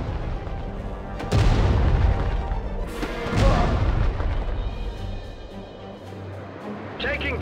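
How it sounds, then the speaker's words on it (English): Heavy booming blasts of cannon fire in the mobile real-time strategy game World War Commander, two big deep thuds around a few seconds apart over a constant rumbling battle din. "Cannons, fire!"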